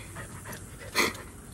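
A small dog pants and breathes close by in quick, soft rhythmic puffs, with one louder huffing breath standing out near the middle.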